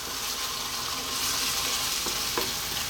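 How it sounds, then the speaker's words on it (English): Chili con carne simmering in a pan, giving a continuous crackling sizzle with a couple of soft utensil scrapes near the end, close and moderately loud, no talk. "We're now going to lower the heat to a nice simmer"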